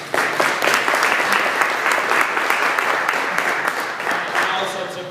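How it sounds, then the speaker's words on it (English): Conference audience at a health-tech event gives a sustained round of applause, dense and steady clapping from a sizeable crowd, tapering slightly toward the end with no speech over it. "So a round of applause for John."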